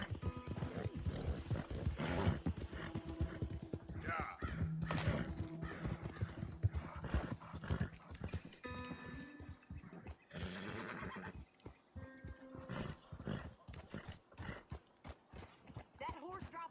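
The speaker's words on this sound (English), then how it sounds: "Ay, mi caballo." A horse in Red Dead Redemption 2 neighs and whinnies while its hooves clip-clop steadily on the ground, close and fairly loud, with people talking over much of it.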